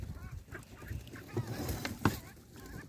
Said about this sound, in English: Oh, here come the geese.